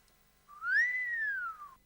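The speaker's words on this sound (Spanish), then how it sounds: "y luego silbaste como queriendo decir" A single long whistled note from an actor in a TV drama scene, clear and close, rising smoothly and then gliding back down over about a second, with quiet room tone around it.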